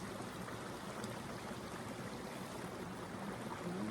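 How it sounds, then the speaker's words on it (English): A quiet, continuous babbling brook on Dartmoor, water trickling and rushing in a soft, steady wash with no voices. "that little babbling brook sound, it's like a bit of white noise"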